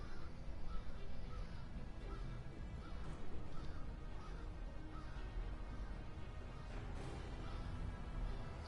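A crow in Monster Hunter World caws repeatedly at scattered moments over a steady, dense game ambience, the calls fairly faint and mixed into the background.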